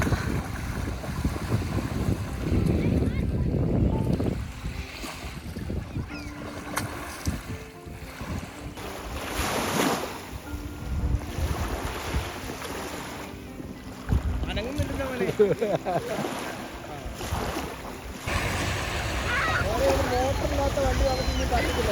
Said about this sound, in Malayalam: അപ്പോൾ ഇതാ നമ്മൾ വെള്ളത്തിൽ ഈ മെഷീൻ ടെസ്റ്റ് ചെയ്യാൻ പോകുന്നു.